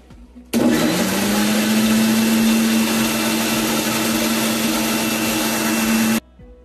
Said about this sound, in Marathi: 2 मिनिट मिक्सर मध्ये फिरून घेते।